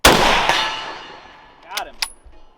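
A rifle shot rings out and strikes a steel target at a military surplus range, a sharp crack with a long decaying ring, followed by two fainter metallic pings about a second later.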